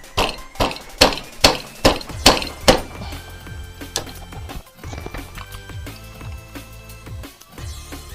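A motorcycle's old steering head bearing cup is hammered out on a Strom Gorilla, with about seven sharp, evenly spaced metal strikes up close, followed by lighter tapping and clinks, without talk.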